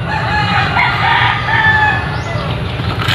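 A brooding hen sitting on a clutch of nine eggs makes soft, repeated clucking calls close by over a steady farmyard background.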